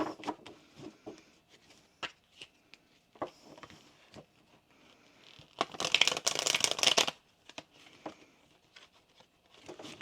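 Tarot cards riffle and slap together in a quick burst of shuffling, surrounded by scattered soft taps and card handling, close and fairly quiet.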